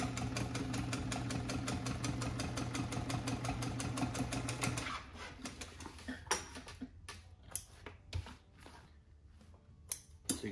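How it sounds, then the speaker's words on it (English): Sewing machine running a fast, steady stitch along a folded butt seam for top stitching, then slowing to scattered individual stitches and clicks, close and clear with no talk. "now we're going to do a top stitch on here"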